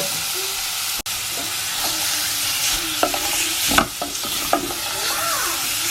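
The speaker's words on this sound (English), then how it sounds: "I'm going to stick it all in there, stir it around, brown off all the edges" Lamb meat browning in a hot pan while being stirred, giving a steady sizzle and fry with a few scraping clinks of the utensil against the pan, close and fairly loud throughout.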